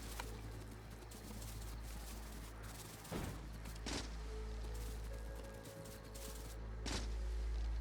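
Sparse gunfire in Factorio as trees are shot, a few sharp cracks spaced apart over a steady low background hum.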